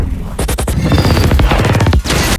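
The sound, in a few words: explosion in a movie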